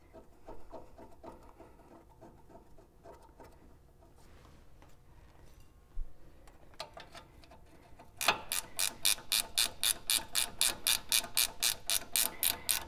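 A hand ratchet snugging CV axle bolts on a 100 Series Land Cruiser, first some slower scattered clicks and handling noise, then a fast, steady run of loud, close ratchet clicks.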